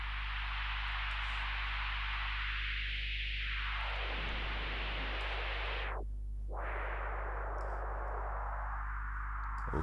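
A synthesizer module's noise generator gives a steady, loud hiss throughout, with filter sweeps that make it swell and dip in tone, over a low constant hum; no one speaks.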